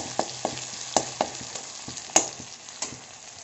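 Garlic, green chilli and ginger paste frying in mustard oil in a kadhai for desi-style macaroni, a close steady sizzle broken by sharp spoon scrapes and taps as the paste is stirred, with no speech.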